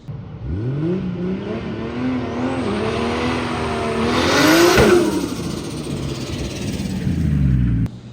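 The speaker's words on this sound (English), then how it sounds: "I'll put in a little clip now of what this car's dose sounds like" A turbocharged Volvo 240 revs and accelerates up close, then on throttle lift the turbo gives a fluttering compressor-surge chatter with the blow-off valve removed, and the engine drops back to a steady drone.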